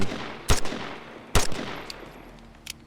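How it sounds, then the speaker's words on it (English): Two sharp gunshots crack out loud and close at practice targets in the Vigor video game, spaced about a second apart, followed by fainter clicks and a low ambient hum. "So you just shoot at the targets, practicing."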